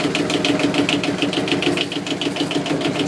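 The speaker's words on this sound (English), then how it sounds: "So I just start the engine." A 14 hp Nanni marine diesel on a 26-foot boat idles steadily, with a fast, even knocking pulse running close and loud throughout.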